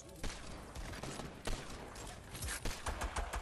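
Rapid bursts of gunfire in a shooter video game, dense cracking shots layered over busy in-game noise, fairly loud and continuous with a few sharper peaks.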